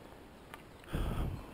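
Wind blows outdoors in a forest: a quiet rustle, then a sudden gust buffets and rumbles close by for the last half second, with no voices.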